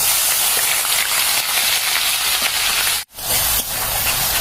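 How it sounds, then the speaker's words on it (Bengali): Onion dropped into hot oil for a crab bhuna curry, a loud steady sizzle and hiss that cuts off briefly midway, then resumes. "প্রথমে তেলের মধ্যে পেঁয়াজটা দিয়ে দেই"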